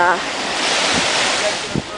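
Waves wash onto a beach at San Francisco Bay in a continuous rushing surf, with strong wind buffeting the microphone and a couple of faint thumps near the end.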